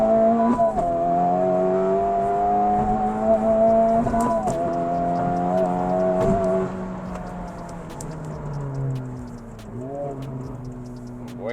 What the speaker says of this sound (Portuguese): eu vou fazer no flat shift aqui também, para vocês sentirem um pouquinho aí dos 410 cavalos de motor